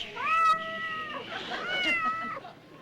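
A drawn-out, high, wavering meow, loud and close, then a second meowing call; it sounds like a person mimicking a cat.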